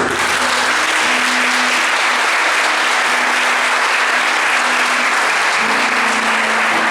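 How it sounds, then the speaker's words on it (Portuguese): A congregation at a Catholic Charismatic Renewal prayer gathering applauds loudly and continuously for several seconds, a thick wash of clapping with a faint steady hum beneath it. "Aplauda o Senhor."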